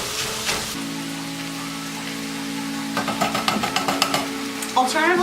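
Vegan filling is broken up and stirred in a pan, giving scraping, clattering utensil strokes and soft sizzle that grow busier toward the end, with no one speaking.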